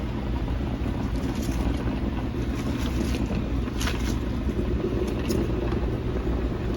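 A pot of turkey wings at a brisk boil gives a steady, dense bubbling rumble that fills the space evenly from start to end, with no talking over it.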